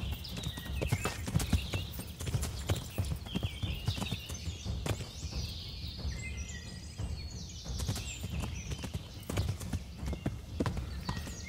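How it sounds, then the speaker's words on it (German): Horse hooves clip-clop steadily along a path while riding in Kingdom Come: Deliverance, a continuous walking rhythm with faint background ambience and occasional bird calls. "Also dass wir jetzt hier den Weg entlang reiten."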